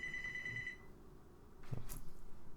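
A landline telephone rings once with a short, bright tone that cuts off, followed by faint rustling and a soft knock in a quiet room during an interview.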